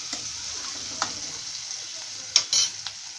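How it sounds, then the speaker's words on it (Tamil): Vegetables sauté lightly in a pan for a bread omelet, a soft steady sizzle with a few scrapes and clinks of stirring, close and fairly quiet. "ரொம்ப வதக்கணும் இல்லை, கொஞ்சமாக வதக்கிக்கலாம்."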